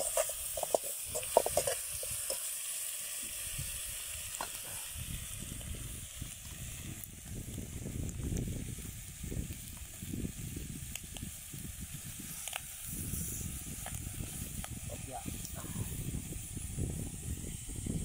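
Squid fries over a strong fire with a continuous loud hiss and crackle of sizzling oil and steam, steady throughout with scattered sharp pops and no talk.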